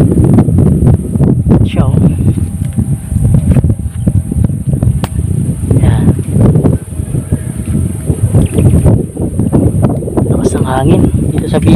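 Strong typhoon wind buffets the microphone while a kite is flown in Bicol, a loud, constant roar with gusty surges, with people talking over it throughout.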